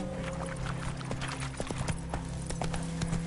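A horse gallops in a video game, a quick, even clip-clop of hooves, moderately close, over a steady low hum of game music.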